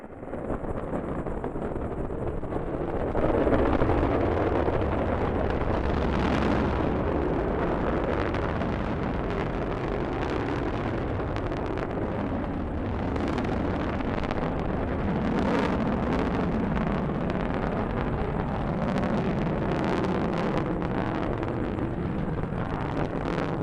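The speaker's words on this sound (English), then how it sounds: "Liftoff of the Delta rocket carrying GLAST, a gamma-ray telescope searching for unseen physics in the stars of the galaxies." Delta rocket lifting off with the GLAST gamma-ray telescope aboard: a sustained, dense, rumbling roar that stays loud and steady throughout, buffeted by wind-like crackle, with no voices.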